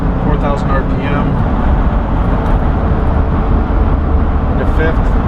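Cabin drone of a 1970 Porsche 911E coupe cruising on the highway at 70 mph in fourth gear near 4,000 RPM, a constant loud low engine and road roar with someone talking over it.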